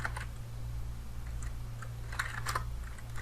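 Someone types the ifconfig command on a computer keyboard in a Kali Linux terminal: a quick run of close, crisp key clicks that bunch together near the end, with no talking, over a steady low hum.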